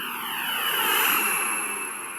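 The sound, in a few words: Boeing 747 engines on takeoff run in video game SimplePlanes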